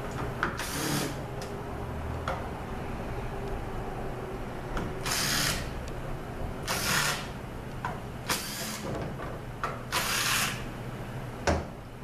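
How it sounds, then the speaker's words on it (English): Ratchet wrench loosening valve body bolts on a BMW ZF6HP19 automatic transmission, a steady close stream of clicking with several louder bursts of rapid ratcheting spread across the span, no talking. "so let's take these bolts out."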